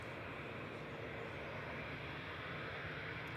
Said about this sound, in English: here's the A380 departing flight 22 back to Dubai